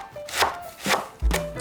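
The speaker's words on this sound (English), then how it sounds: "So we are just chopping it in little strips like this." A knife slices cabbage into thin strips on a cutting board, three distinct crisp chops spaced evenly and close up, with no talking.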